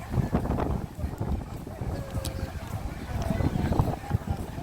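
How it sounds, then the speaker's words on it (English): Gusty wind in Willemstad, Curaçao, with a tropical storm nearby buffets the microphone with low rumbling bursts, rising and falling throughout, along with faint background activity. "It's very windy."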